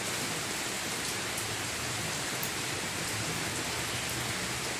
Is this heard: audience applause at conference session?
no